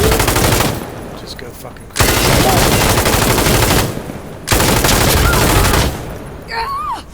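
Bursts of M249 SAW machine gun fire in the video game Insurgency: Sandstorm: three long, loud sustained volleys separated by short gaps, with someone speaking briefly between them.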